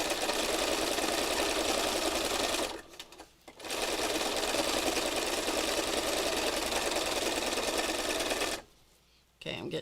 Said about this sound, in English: This is intuitive machine sewing.